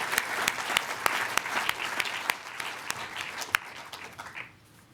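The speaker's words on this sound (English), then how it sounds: "give them a round of applause" Sustained audience applause fills a hall at a journalism awards ceremony, dense clapping with a few sharper individual claps standing out, then fading away near the end.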